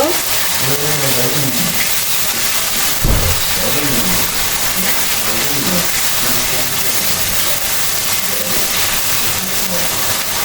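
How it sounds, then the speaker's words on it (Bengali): Ground almond paste and spice masala fry in a pan with a loud, continuous hiss that runs for the whole stretch while a voice talks over it. "কাঠবাদাম বাটার মশলাটা একটু কষিয়ে নিব"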